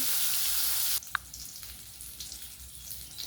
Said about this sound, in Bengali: সমস্ত মাছগুলো আমি এরকমইভাবে ভেজে নেব।